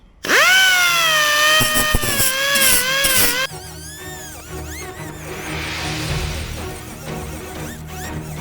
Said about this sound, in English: let's grind away some of this leftover epoxy